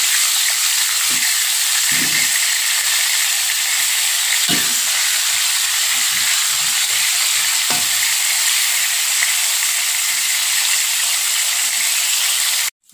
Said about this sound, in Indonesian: Tentu kita goreng ikan asinnya matang ya.